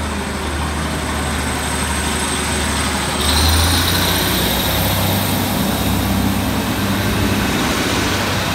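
Northern Class 156 diesel multiple unit departing a Tees Valley Line station at Marske, a loud continuous diesel engine drone that swells as the train pulls away.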